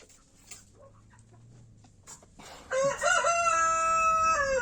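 A rooster in a coop crows loudly and close by, one long rising-and-falling call that follows a few quiet clucks and faint rustling.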